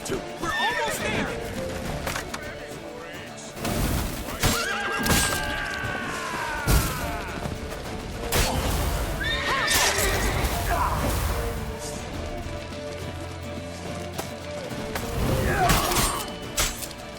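Horse neighs and whinnies loudly in The Witcher 3 video game, with clip-clop galloping hooves, thuds and crashes mixed into busy game action and music.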